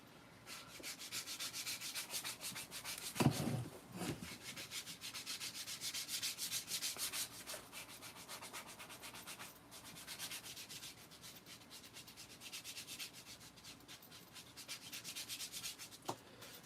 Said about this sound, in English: It's gonna be a lot of work to sand those